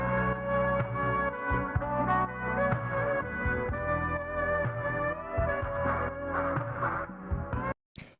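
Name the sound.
lo-fi house sample loop played alone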